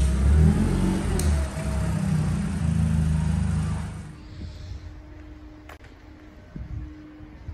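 A supercar roars as it accelerates past a bus, a loud close revving surge that fades after about four seconds to a quieter distant hum.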